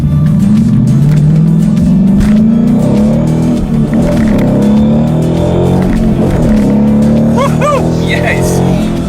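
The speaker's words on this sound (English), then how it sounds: "Number 2, the 2016 Ford Mustang GT." A 2016 Ford Mustang GT driving hard: a loud, continuous engine drone that rises and falls in pitch through gear changes, heard close from inside the car, with a voice talking over parts of it.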